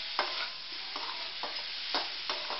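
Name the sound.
stirring and frying amla sabzi with sugar in pan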